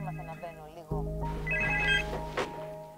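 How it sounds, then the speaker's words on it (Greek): Telephone bell ringing with a rapid trilling ring, fairly loud and close, mixed with a tonal musical layer over its three seconds. "Όλα ξεκίνησαν με ένα απλό τηλεφώνημα."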